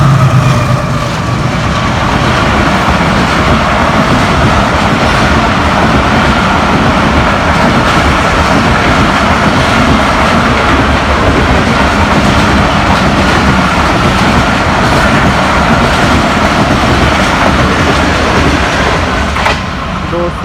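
Pakistan Express passenger train rushing at high speed through New Multan railway station in Pakistan, a loud continuous roar with steady clickety-clack of wheels over rail joints, close by and lasting throughout.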